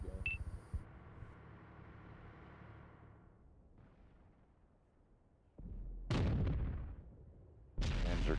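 A 120 mm tank cannon firing in a combat video game: a few loud, booming shots with a harsh crack and rolling rumble that fades between blasts, and no talk.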